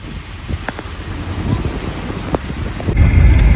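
Rain falls outdoors in Multan, a steady wash of drops with wind and brief rumbles, growing heavier near the end.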